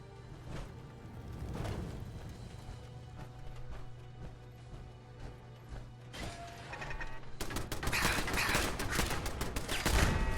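Rapid bursts of hip-fired gunfire in Fallout 4, a steady rattle of shots against a low mechanical hum, growing louder and denser toward the end.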